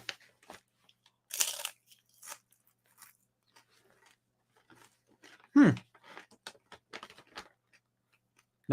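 Freeze-dried okra crisps are bitten and chewed close by, with two sharp, loud crunches and a scatter of fainter crackly nibbles in between, separated by quiet gaps.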